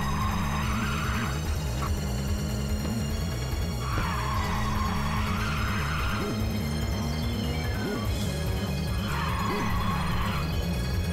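Car drifting in Ridge Racer 2, with three long tire-squeal skids rising over a constant engine roar and game music.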